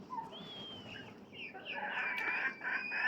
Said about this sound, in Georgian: აი ისიც მამალია